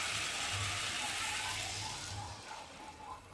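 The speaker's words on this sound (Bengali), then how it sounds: "আর এখন আমি পরিমাণ মতো জল দিয়ে দেবো।" Water is poured into a pan of sautéed ridge gourd for a fish curry, a brief, steady splashing gush that fades slightly toward the end, heard alone without any talking.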